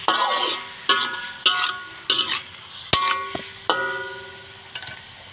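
Whole squid goes into a pan for adobong pusit and is stirred, giving a series of sharp metallic clanks and scrapes of a utensil against the pan, each ringing briefly, close up over a low sizzle.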